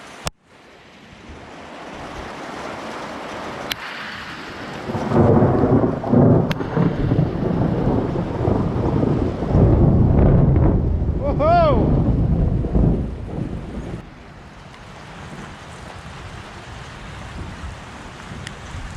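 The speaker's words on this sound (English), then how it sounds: "Looks like we're going to be rained out. Rain's coming down." Heavy rain hisses steadily while rumbling thunder swells through the middle, loud and broad, then eases back to a quieter wash of rain.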